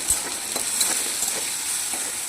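Bitter gourd fries in a pan over high flame with a continuous close sizzle, broken by light stirring clicks and no talk.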